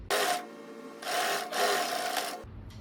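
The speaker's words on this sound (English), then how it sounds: "And now you can sew all the way to the hem." A sewing machine stitches a dress seam down to the hem in a sewing tutorial, running in three steady whirring bursts with brief pauses between, close and clear with no talking.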